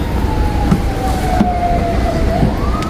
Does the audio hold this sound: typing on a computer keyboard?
no